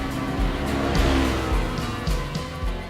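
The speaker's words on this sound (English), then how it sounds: "Driving this Polaris XPEDITION around is really fun." A 2024 Polaris XPEDITION off-road vehicle drives outdoors with a steady, loud engine drone and low rumble, close up and continuous, with no talk over it.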